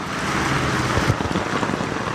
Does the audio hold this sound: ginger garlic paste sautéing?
no